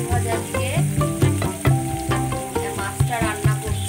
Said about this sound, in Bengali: আজকে দেখুন উঠছে আলু ভাজা